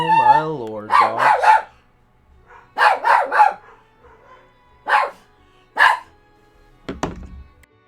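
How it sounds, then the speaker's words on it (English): Dogs bark in the Fire Emblem: Path of Radiance video game, several sharp separate barks in short bursts with pauses between, loud and close, ending with a thud. "Oh my lord, dogs."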